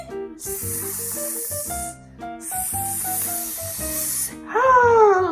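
A voice imitates a snake's hiss, two long sustained hisses over a cheerful children's song, followed by a sung sliding tone.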